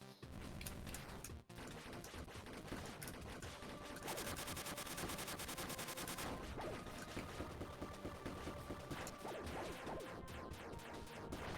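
Tank boss turrets firing in the Cyber Shadow video game, a dense, continuous barrage of loud rapid shots and crashing impacts with busy game music and effects throughout.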